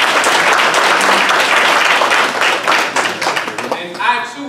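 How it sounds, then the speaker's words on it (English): Audience applause at a mayoral candidates' forum, loud, dense clapping close by that thins and fades out as a voice begins speaking at the end. "Please give them a round of applause."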